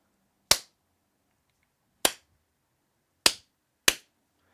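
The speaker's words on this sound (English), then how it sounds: "Audio sync clap in case my recording is messed up" Four sharp, isolated hand claps in a quiet room, the first alone, then a gap, and the last three closer together; each is a crisp, moderately loud snap with a short decay and no voices.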